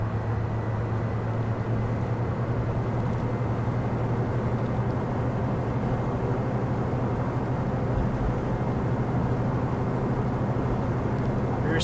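A Pilatus PC-12 turboprop in Flight Simulator X throttling up, a steady loud engine drone with a strong low hum and broadband roar held evenly throughout.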